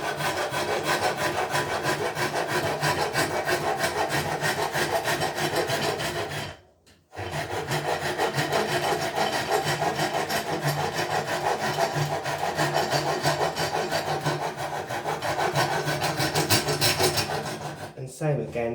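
Hand rasping or filing of a wooden cigar box guitar neck, steady rhythmic back-and-forth rubbing strokes close up, loud and continuous with one brief pause partway through.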